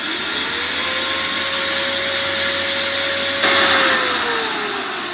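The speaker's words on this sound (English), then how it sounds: "I'd much rather use my central vacuum to clean out other vacuums than a bagged shop vac that's less powerful." A central vacuum system runs steadily with a loud, constant whine and airflow roar; its pitch rises slightly and settles, and the tone shifts briefly as the hose opening changes, with no speech.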